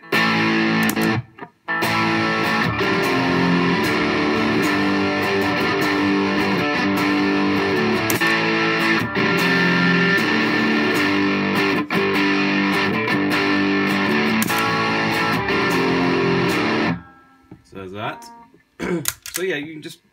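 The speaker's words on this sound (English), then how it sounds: "If I hit D again, it goes to amp distortion, so I can switch between the two, either Rothwell or amp." An electric guitar plays through a Rothwell distortion pedal and amp distortion, switched by a Joyo PXL Pro looper, giving a loud, sustained, saturated tone that cuts out briefly early and ends in scattered lighter notes.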